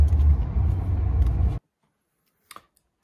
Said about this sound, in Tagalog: So on the way to Rotterdam at ang traffic.